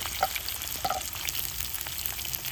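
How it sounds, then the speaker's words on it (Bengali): Potatoes frying in hot white oil with a little salt and turmeric in a pan, giving a steady close sizzle with small pops and crackles throughout. "আলুটা একদম লালি করে ভেজে নেব"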